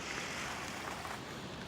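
Ocean waves rolling onto a beach, a steady broadband surf wash with some wind, continuous and fairly near, no voices.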